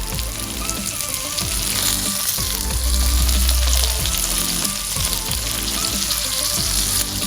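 Curry leaf oil poured into a hot pan for prawn masala puttu, bursting into a loud, dense crackling sizzle that swells in the middle and keeps spitting steadily, with no voices.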